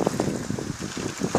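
Strong south-east wind blows during a violent thunderstorm in Carpentras, Vaucluse, heard as a steady, close rush of gusty wind buffeting the microphone, with low rumbling surges throughout and no speech.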